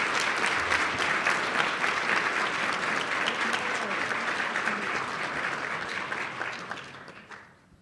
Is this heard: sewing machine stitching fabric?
no